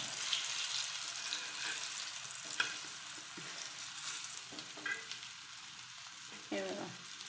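Small pieces of fish fry steadily in a pan at home with a continuous sizzle, joined by scraping and stirring sounds and a few brief clinks as the pieces are turned.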